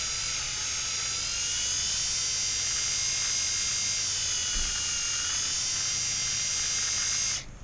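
A drill bores a hole during a header install on a BMW M54 engine, giving a continuous high-pitched whine that holds steady and fairly loud for about seven seconds before spinning down abruptly.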